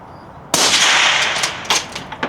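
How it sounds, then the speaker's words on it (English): A suppressed supersonic rifle shot bursts out sharply, followed by a few more distant cracks and reports at an outdoor range, loud and without talk. "you're hearing a lot of that crack coming from the rifles and from that bullet as it's traveling downrange"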